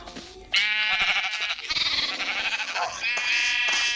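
Loud, bright bleating from sheep in the game Minecraft, several overlapping calls in quick succession with a synthetic, game-like tone, filling the whole stretch.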